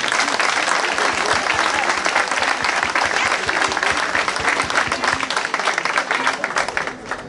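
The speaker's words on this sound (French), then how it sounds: "je crois qu'on va vous applaudir aussi" Sustained applause from a crowd honouring event security staff at a French civic ceremony, dense and steady clapping throughout that tapers slightly at the very end.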